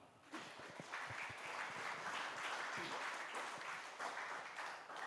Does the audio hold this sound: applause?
yes